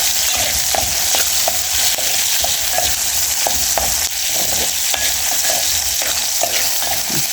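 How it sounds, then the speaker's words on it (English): Onions frying in a pot for Kenyan pilau, a loud continuous sizzle with scattered clinks and scrapes of stirring, close by and without talking. "my onion is still cooking"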